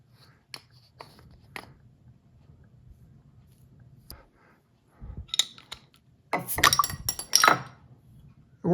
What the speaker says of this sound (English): Let's try the bottle opener.